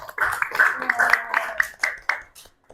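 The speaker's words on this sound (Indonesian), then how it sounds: "Tepuk tangan untuk kita semuanya." A few people clap unevenly in a short, sparse burst that tapers off, near and moderately loud.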